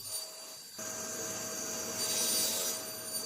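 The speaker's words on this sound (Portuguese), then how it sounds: "Troquei a lâmina da serra de bancada por uma nova lâmina de 42 dentes dos meus amigos da Trend." A table saw fitted with a new 42-tooth Trend blade cuts through wood, a steady whirring hiss rising after a quiet start and holding evenly for a few seconds.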